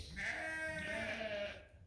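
Several Suffolk lambs bleat together on a sheep farm, loud and close, a sustained overlapping chorus of calls lasting nearly two seconds with no talking.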